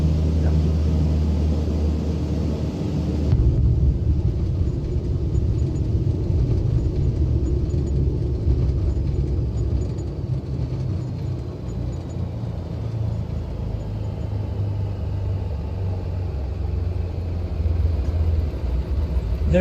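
A Cessna 414 twin-engine aircraft runs its engines in a loud, steady low drone that continues unbroken. The tone shifts slightly after the first few seconds.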